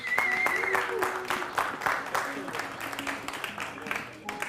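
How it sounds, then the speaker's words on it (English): A crowd at a cryptocurrency token pitch event claps in scattered, uneven bursts that fade over a few seconds, with cheers and voices mixed in. "Give yourselves a big round of applause."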